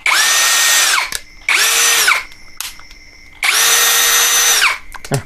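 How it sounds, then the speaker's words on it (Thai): An OSUKA OCD701-D1 cordless drill motor whirs at high pitch in three bursts, each spinning up sharply and winding down, with short pauses between. "อ่ะเดี๋ยวลองฟังเสียงดูสักหน่อยครับสำหรับมอเตอร์บัตเลตจากโอซูกะตัวนี้"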